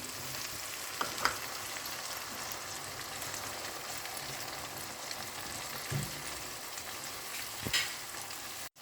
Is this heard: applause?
no